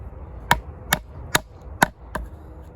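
A SteelWill Druid 205 knife chops into wood with five sharp, evenly spaced strikes, crisp and close, over a low background hum with no speech.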